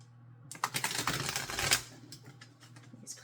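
Brand-new playing cards being shuffled: a quick, close riffle of rapid crisp flicks lasting about a second and a half, followed by a few softer scattered taps.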